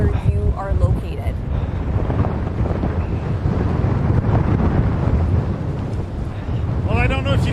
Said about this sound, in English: It's incredibly windy where both of you are.